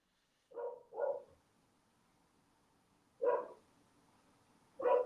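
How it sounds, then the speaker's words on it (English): A dog barks four times in two pairs, short muffled woofs with a pause between pairs, somewhat distant against quiet background. "I hope you can't hear Marley barking in the background"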